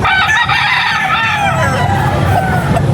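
A white hatch gamefowl rooster with dark legs crows once, loud and close, in a long drawn-out call over a background of muffled voices and yard noise.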